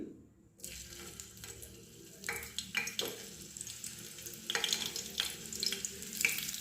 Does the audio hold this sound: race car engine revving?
no